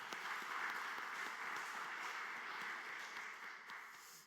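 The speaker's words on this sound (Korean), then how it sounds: "축복하고 격려하는 박수 한번 더 하도록 하겠습니다." Applause from a church congregation during a deacons' dedication worship service, a steady, fairly quiet wash of many hands clapping together throughout without a break.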